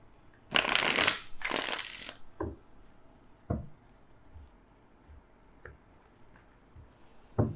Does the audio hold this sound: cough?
no